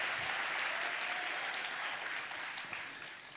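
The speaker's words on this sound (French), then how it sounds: "au milieu du viva les bravos de la foule, comme d'habitude" A crowd applauding at a round-table conference session, a sustained wash of many clapping hands that stays full and then eases slightly toward the end, with no speech over it.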